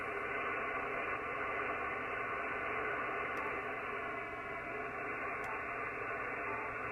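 An amateur SSB radio receiver, a Yaesu FTdx10, gives off a steady, even hiss of band static with noise reduction set to algorithm 1. The noise is band-limited and constant and stays fairly quiet, with two faint ticks partway through.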